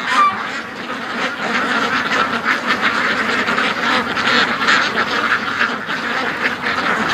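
Domestic ducks quack loudly and continuously in a yard, a dense overlapping flock chorus close by, with no talking.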